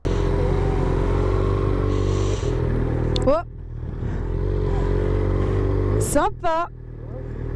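A 125cc motorcycle on the move, its steady engine drone running beneath continuous close conversation, with a couple of brief rising revs near the end.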